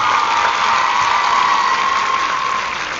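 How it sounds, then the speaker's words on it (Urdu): Audience applause at a Pakistani bilingual declamation contest, a steady dense wash of clapping filling the whole stretch at even loudness with no voices on top. "اس معاشرے کے لیے تالیاں بجا دیجیے"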